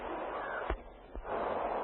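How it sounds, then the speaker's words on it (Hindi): A crow caws twice at a distance, two short faint calls about half a second apart against a steady outdoor hiss of wind. "पक्षियों की आवाजें रह गई।"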